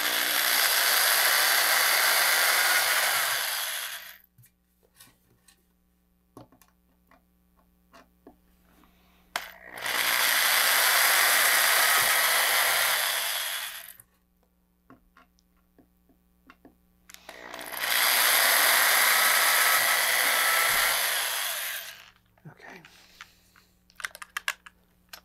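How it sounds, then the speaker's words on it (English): A power drill whirs in three sustained bursts, each a few seconds long, drilling pilot holes for rivets in a rocket assembly, separated by quiet pauses with faint clicks and handling noise. "I'm going to drill a pilot hole first"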